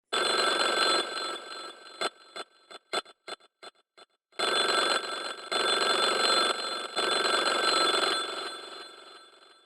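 Old-fashioned telephone bell ringing as a sample in a funky electronic music track, a loud continuous metallic ring that stutters into rapid chopped hits before sustaining again.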